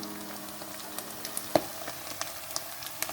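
A ragù base sautés in butter and oil in a pan, a faint, soft sizzle with scattered pops and one sharp clink, with no voices.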